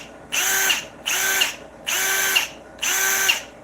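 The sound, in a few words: brushless power drill running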